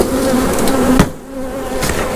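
Honey bees buzz loudly and continuously, close by, while they are shaken off frames at the front of a hive during a split. There is a brief thump partway through, and the drone softens for a moment before swelling again.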